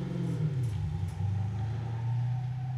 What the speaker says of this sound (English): Might just be the crappy sound of his car.